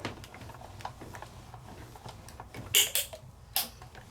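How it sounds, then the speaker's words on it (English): A Sizzix Big Shot die cutting machine with layering dies being cranked, giving faint scattered creaks and ticks before two louder sharp cracks near the end. "Creaks and cracks are okay."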